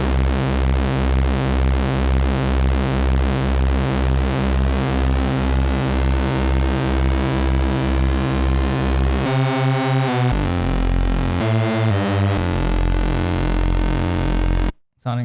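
An IK Multimedia UNO Synth Pro analog synthesizer drones steadily with LFO modulation, loud and continuous, the tone shifting abruptly near the end before a brief dropout.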